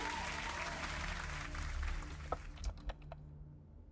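A clap sound alert triggered from stream chat during a game stream, a recorded burst of audience applause that thins into a few scattered claps before cutting off.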